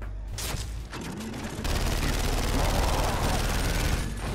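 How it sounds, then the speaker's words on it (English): Mounted chain gun in Gears of War 2 firing continuously after a cranking start, a dense sustained roar of rapid shots with heavy low booms, loud and up close. "There's also a chain gun that you can kind of mount on cover and turn the little crank and he'll shoot it"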